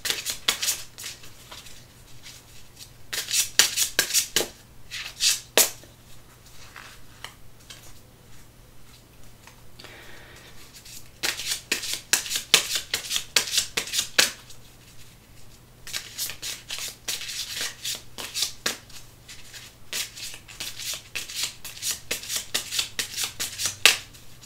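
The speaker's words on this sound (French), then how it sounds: "Moi, je vais battre les cartes et je vais choisir pour vous une carte." A deck of Oracle des Lumineuses oracle cards is shuffled by hand in close, crisp bursts of riffling and sliding. Several separate rounds of shuffling are broken by short quiet pauses.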